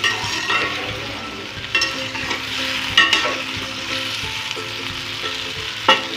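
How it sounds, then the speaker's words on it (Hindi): Taro root fries in a pan with a constant close sizzle, broken now and then by the scrape and clink of a spoon stirring it. "फ्राई करते वक्त आप इसका थोड़ी थोड़ी देर बाद चम्मच इसमें चलाते रहें"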